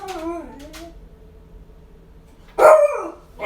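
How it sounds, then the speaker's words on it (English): A dog named Zora lets out a short, loud bark near the end, after a stretch of quiet room tone, with a person talking softly at the start. "she wants to bark again"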